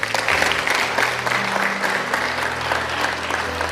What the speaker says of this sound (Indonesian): Tepuk tangan, top ini.